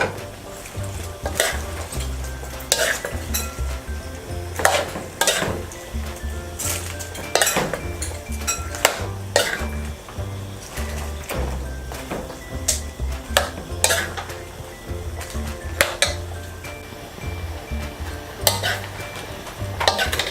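Cabbage and vegetables for chop suey with chicken gizzard stir-fry in a pan, steady sizzling under repeated clinks and scrapes of a metal utensil against the pan, close and busy, with no talking.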